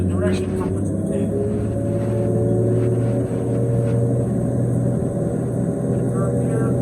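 A Trackmobile Titan railcar mover drives along while its engine climbs and settles through gear upshifts, a steady close diesel-like rumble with a voice talking over it.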